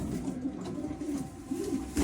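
Pigeons coo softly in a low, continuous murmur, close by with steady background noise.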